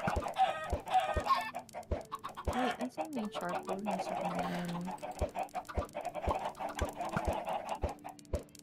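Chickens cluck repeatedly in a Minecraft farm, the short bird calls recurring under a person's casual talking, along with sharp clicks and game effects.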